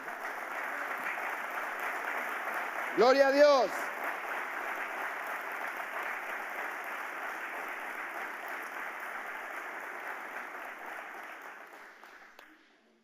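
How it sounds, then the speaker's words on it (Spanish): A church congregation applauds in a broad, steady wash of clapping that runs for several seconds and fades out near the end, with someone briefly shouting early on. "Dele un aplauso fuerte al Señor."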